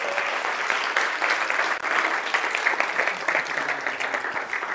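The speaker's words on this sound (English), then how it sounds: "Give them another round of applause" Audience at a university three-minute thesis competition gives a round of applause, a thick continuous clatter of many hands clapping, fairly close and loud, with a brief dip near the middle before continuing.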